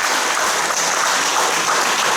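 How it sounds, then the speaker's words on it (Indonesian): Sustained applause from a festival audience for the organising committee of the Sugandoi Penampang finals, a dense, even roar of many hands clapping at once, steady and loud throughout. "Berikan tepukan yang paling gemuruh kepada ahli jawatan kuasa saya."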